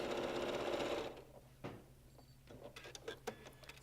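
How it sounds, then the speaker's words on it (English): Sewing machine stitching quilt pieces for a dinosaur-themed star quilt, running steadily for about a second and then stopping, followed by faint handling clicks and rustles, with no voices. "So I've just sewed those together"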